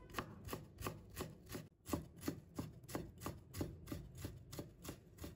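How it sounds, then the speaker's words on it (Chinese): A knife minces a peeled piece of fresh ginger on a cutting board, quick, evenly spaced chops about four per second with one short break, close and fairly quiet with no voices. "再改刀切成姜丝， 最后切成姜末。"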